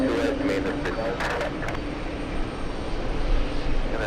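A JetBlue airliner arriving from Aruba at JFK, its engine roar a steady, broad rumble that holds loud throughout, with a voice talking over it at the start.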